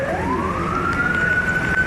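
An emergency vehicle siren rises in pitch and then holds a steady wail, heard at a moderate distance over constant street and traffic rumble, with no talking.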